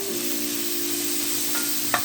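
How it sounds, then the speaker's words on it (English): Steady crackling sizzle of bacon frying brown in a pan, with a faint low hum underneath and a small clink near the end. "we are going to sizzle this bacon up and get it all brown and down"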